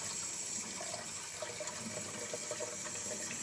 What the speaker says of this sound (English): Once you're happy that you wash them again, rinse off